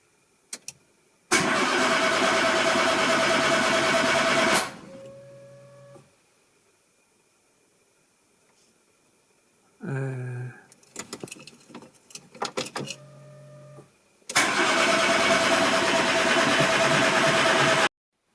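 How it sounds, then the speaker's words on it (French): A Renault Twingo 1 engine cranks and fires into a loud, steady run for about three seconds, then cuts out; after a quiet pause comes a sputtering, uneven restart attempt, and finally the engine catches again and runs strongly to the end. "C'est parti, on essaye de démarrer."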